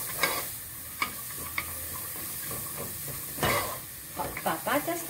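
Vegetables being sautéed and stirred in a pan for broccoli cheese soup give off a steady soft sizzle, broken by occasional clinks and scrapes of a utensil, with a few faint vocal sounds near the end.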